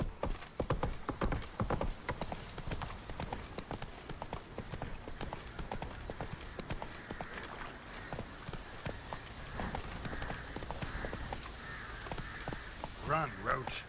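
In The Witcher 3, the horse Roach gallops with a fast, steady clatter of hooves close by, under busy game sound and someone talking.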